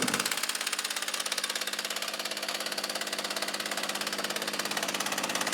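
A Husqvarna 36 chainsaw idles a little high, its small two-stroke engine buzzing in a steady, rapid, close-up putter that stays even throughout.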